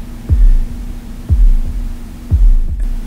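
Pink Floyd's heartbeat effect from "Speak to Me" on The Dark Side of the Moon: deep, muffled thumps in a slow regular double-beat rhythm, about one per second, over a low steady hum.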